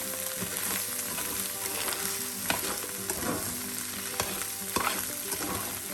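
Bacon and cauliflower rice sizzle steadily in a pan while being stirred and turned, with several sharp scraping clicks of the utensil rising above the constant crackle.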